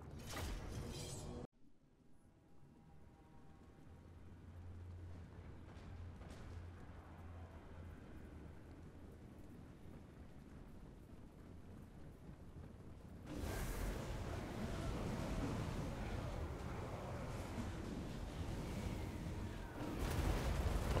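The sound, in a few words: magical bombardment explosions in video game Total War: Warhammer 2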